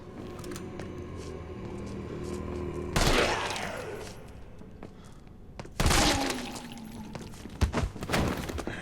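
Gunshots fired at zombie cops in Resident Evil 3 Remake: two heavy, loud blasts a few seconds apart, each followed by ringing decay, with fainter clatter and thuds between them and a burst of sharp impacts near the end.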